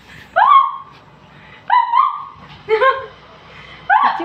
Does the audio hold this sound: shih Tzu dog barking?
yes